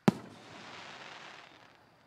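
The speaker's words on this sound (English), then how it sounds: "I decided to bring the fireworks to you" A single firework bursts with a sharp, loud crack, then a faint crackling, sizzling trail fades over about two seconds.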